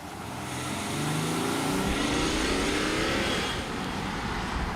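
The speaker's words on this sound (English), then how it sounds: "It's that familiar diesel clatter" A 2013 BMW X5 diesel SUV accelerating, heard from inside with a steady, rising engine drone and rough clattering texture that swells and holds loud throughout.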